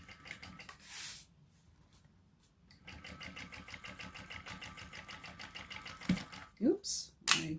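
A sewing machine stitches a seam across a shoulder bag, a steady rapid mechanical chatter lasting several seconds after a brief earlier burst, fairly quiet and close, with a few handling clicks near the end.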